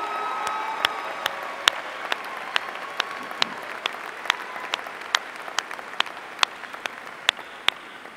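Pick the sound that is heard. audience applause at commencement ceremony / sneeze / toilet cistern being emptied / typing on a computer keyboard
audience applause at commencement ceremony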